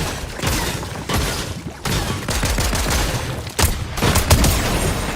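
Video game gunfire, loud and close, in rapid bursts of shots and booms that come in several clustered waves with short gaps between them.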